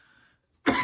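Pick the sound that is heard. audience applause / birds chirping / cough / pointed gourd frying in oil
cough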